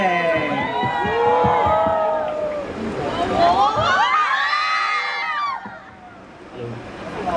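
An audience at a Christmas music fan meeting roars and cheers, with shrill screams and shouts rising and falling in loud waves before easing off near the end.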